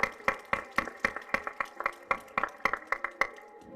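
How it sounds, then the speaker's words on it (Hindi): A school audience claps in rhythm to honour the principal, a steady run of sharp, evenly spaced unison claps at a brisk tempo, fairly close and without talk. "जोरदार तालियां हो जाए हमारी राष्ट्रीय भारती प्रिंसिपल मैम के सम्मान के लिए"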